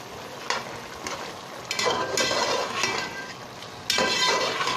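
Beef and rice for yakhni pulao being sautéed in a pot, with a steady sizzle under repeated stirring scrapes and occasional clinks of a spoon against the metal, close and continuous.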